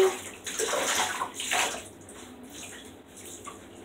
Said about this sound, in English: Cleanse it to get all that soap out.